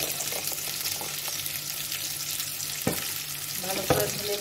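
Ground mustard, cumin, fennel and coriander spice paste poured into a hot pan for mango kasundi, a steady close sizzle with a couple of sharp clinks and spatter bursts near the end, no talking.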